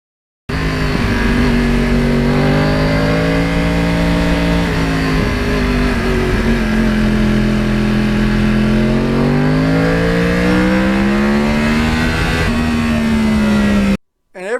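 Yamaha R1 crossplane motorcycle engine revving loudly and close, a rough, continuous roar that rises and falls in pitch for about thirteen seconds before cutting off abruptly.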